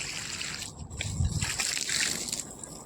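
Water trickles and sloshes from a pipe onto onion plants on a rooftop garden, a soft, close, steady flow with faint splashing and no talking.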